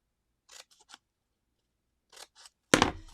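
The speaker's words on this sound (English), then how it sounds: "you're going to cut off this tiny little tab on the one side" Scissors snip off a small paper tab on a card-stock paper craft piece: a few quiet, sharp cuts in separate bursts, ending in one louder, close crunching snip.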